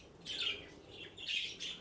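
Small birds in an indoor aviary lounge give a few faint, high chirps and tweets in quick bursts, soft and slightly distant against quiet room noise.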